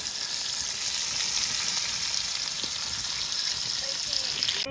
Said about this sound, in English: Are you really camping if you're not cooking bacon on a cast iron pan?